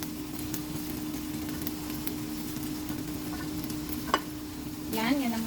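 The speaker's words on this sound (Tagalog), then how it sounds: "Ang ingay ng kawali ko, no?" Chicken and potatoes sizzle steadily in a noisy frying pan while being stirred, with scraping and light clatter over the constant fry and a louder scrape near the end.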